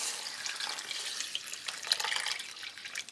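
Beef broth is poured into a pot over taco seasoning and salsa, a steady close splashing pour of liquid that lasts about three seconds.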